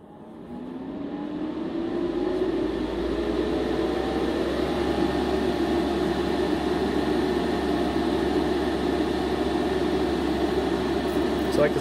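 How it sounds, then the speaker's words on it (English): A paint spray gun sprays MCW enamel paint onto a test spoon, a steady close hiss that swells within the first couple of seconds and holds evenly without a break. "We'll give a little shot on our spoon here. See it spraying really nice."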